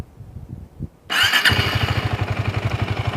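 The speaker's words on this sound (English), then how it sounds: "you get a one-touch starter on this bike, so you don't have to anymore crank it up" A KTM Duke 250 motorcycle starts with its one-touch electric starter: a brief whirring crank, then the engine catches and settles into a close, steady, pulsing idle.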